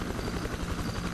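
A helicopter in the video game Arma 2 drones with a steady rotor chop and engine buzz, loud and continuous throughout the short stretch, with no voices.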